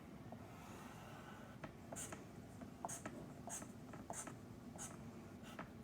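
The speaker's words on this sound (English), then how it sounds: "Now I can draw my lines." A pen drawing lines on paper, with a series of short, crisp scratchy strokes in an uneven rhythm, close and fairly faint over a quiet room background.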